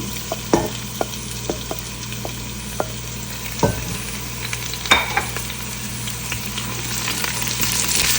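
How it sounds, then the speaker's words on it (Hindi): Steady sizzling of garlic and ginger frying in a pan for dal makhani, with occasional clinks and scrapes of a utensil stirring, close and continuous. "अब इसके साथ ही हम लहसुन और अदरक डाल के भी ब्राउन कर लेंगे।"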